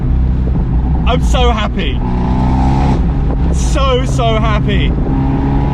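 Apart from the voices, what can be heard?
remapped Abarth 124 Spider engine accelerating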